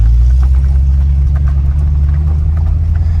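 A Corvette C6 with an LS2 V8 idles with a throaty exhaust note, a loud, deep, continuous rumble with a slight lumpy pulse that stays close and steady throughout, with no voices over it.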